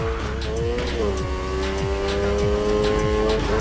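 A car drifts in the racing game NFS Heat, its tires squealing in long rising and falling whines over a loud, droning engine with repeated revving surges throughout.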